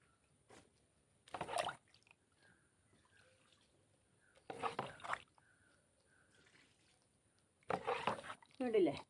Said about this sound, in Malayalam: ഇതിപ്പോൾ നമുക്ക് ഈ വളം ഒഴിച്ച് കൊടുക്കാം